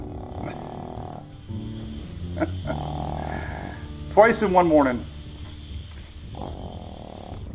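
A dog snoring loudly in short, rhythmic snorting bursts near the microphone, with a person talking over and around it.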